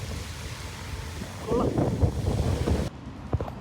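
Cold wind blows beside the Vistula river in Warsaw, a steady low rumbling buffet across the microphone that swells louder midway and then eases.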